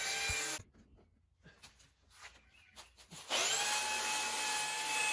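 A belt sander rounds over the machined edges of a walnut charcuterie board, its abrasive rasping rising and falling in uneven passes before a louder, steady whine of the running machine takes over near the end.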